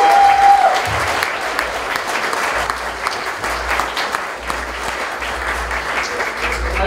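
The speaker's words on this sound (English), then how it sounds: "give these kids a huge round of applause" A gala dinner crowd claps loudly and steadily for a group of kids, a dense sustained wash of hands with faint voices underneath.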